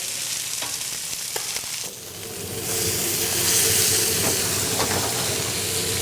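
Pork tenderloin searing in a hot pan, a loud continuous sizzle and crackle that holds steady throughout, briefly dipping before rising again.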